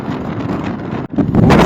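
Strong wind roars across a snowy, foggy mountain summit, a loud continuous buffeting rush battering the microphone, with a brief dropout before gusting harder again.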